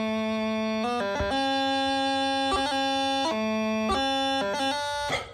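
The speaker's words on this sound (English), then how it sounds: "on the chanter, the first bar sounds like this." A bagpipe practice chanter plays the tune Green Hills of Tyrol, reedy and steady with crisp grace-note flourishes between held notes, continuous and fairly close, with no talking.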